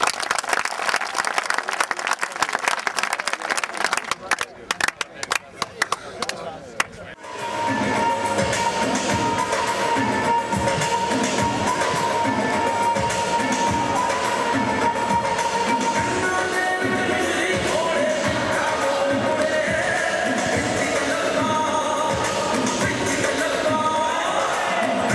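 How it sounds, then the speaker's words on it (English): Audience at a kabaddi event welcoming the England kabaddi manager: after a few seconds of sparse noise, dense sustained applause with some cheering rises and holds loudly to the end. "can everyone just give a please a big round of applause for Ashok, who's come down from Birmingham."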